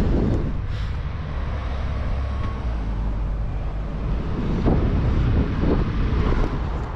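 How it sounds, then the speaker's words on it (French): Strong wind buffeting the microphone of a runner, a loud, steady low roar with rustling gusts, heard alone and close. "vent de merde"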